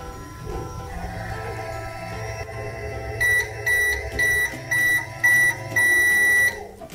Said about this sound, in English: Let's put it in the microwave and see what happens.